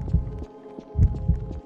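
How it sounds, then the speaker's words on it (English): A heartbeat effect from a Roblox game thumps in low, throbbing double beats, three or four pulses repeating steadily and fairly close over a faint hum, with no talk. "Why is my heart beating?"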